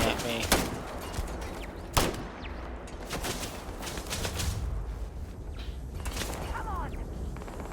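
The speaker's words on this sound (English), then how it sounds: "What the turret shooting at me?" Automated turret gunfire in the sci-fi game Starfield, with a few sharp, loud shots early on followed by scattered mechanical clanks and softer bursts over ongoing background noise, with a voice speaking at points.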